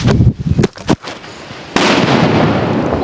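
A few sharp crackling pops lead into one loud, close blast from an atom bomb firecracker, followed by a hissing rumble that slowly fades.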